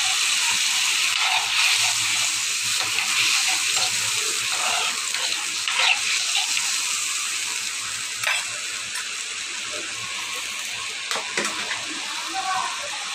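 Fish and potato curry cooking in a pan after water is added, a continuous bubbling sizzle with faint watery splashes and occasional clinks of a spoon, a voice talking at times over it.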